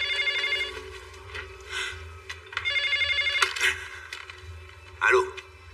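A telephone rings in repeated electronic bursts, close and fairly loud, over a low steady hum, with a brief breathy vocal sound near the end.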